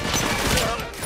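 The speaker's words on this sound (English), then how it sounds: "is she shooting from her ship? That's a lot of gunfire." Rapid gunfire from a spaceship in a Cowboy Bebop anime episode fills the moment as a dense, continuous burst of loud shots.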